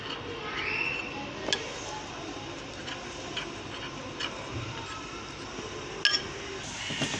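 A spoon stirs a milk and cornflour mixture in a cooking pot, giving a few sharp metallic clinks, notably two distinct taps, over a low steady background hiss.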